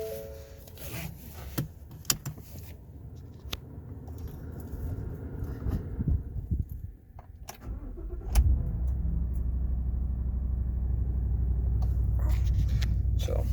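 A 2019 Ford F-250 with the 6.2 V8 and 106K miles, fleet owned, cranks and catches at about eight seconds, then settles into a steady, loud, even idle after some earlier rustling and handling noise.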